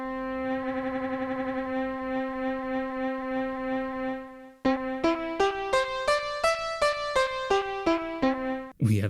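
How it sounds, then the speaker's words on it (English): Sonicware Liven Evoke synthesizer playing a modulated piano patch: a long held warbling note, then a brisk run of separate plucked piano-like notes stepping in pitch, clear and close with no talk. "we have a very different sounding piano"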